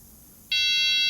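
A buzzer switches on abruptly and holds a steady, loud electronic tone while a Toyota 4WD front differential actuator is tested, following a quiet background.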